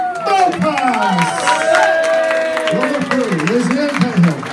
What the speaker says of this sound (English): Please give him a very warm round of applause, Luke Malpass.